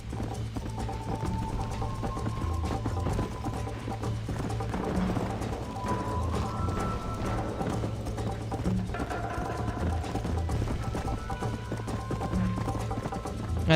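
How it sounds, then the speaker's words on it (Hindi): Horse hooves clip-clopping in Red Dead Redemption, a continuous steady trotting rhythm under a low hum and ambient game sounds throughout. "अरे चढ़ भाई, क्या घोड़ा है?"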